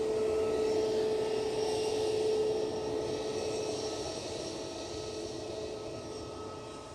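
Airbus A320neo jet engines at Schiphol airport give a steady broadband roar with a faint whine, loud at first and slowly fading as the aircraft moves away.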